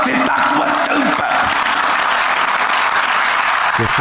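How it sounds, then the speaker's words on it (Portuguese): An audience at a speech by Lula breaks into sustained applause, a dense wash of clapping from a large crowd filling the whole moment, with a few faint voices underneath. "E as pessoas aplaudem."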